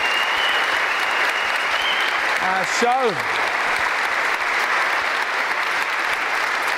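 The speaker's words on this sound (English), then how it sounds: "Give him a big round of applause, please, Mel, everybody." Sustained, loud applause from a TV game-show studio audience at a bank-vault challenge, steady and dense throughout, with a brief voice and a few whoops near the middle.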